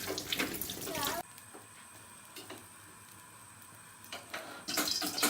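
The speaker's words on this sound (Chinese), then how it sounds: "把切好的土豆块再洗一下。" Cut potato pieces are rinsed under running tap water in a rural kitchen. The splashing comes close and loud at the start and end, with a softer steady trickle in between and a voice speaking briefly.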